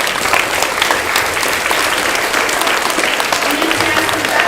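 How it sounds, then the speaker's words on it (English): A crowd at a school awards event in a library breaks into steady, dense applause, continuous and loud across the whole stretch with no pauses. "Give them a round of applause."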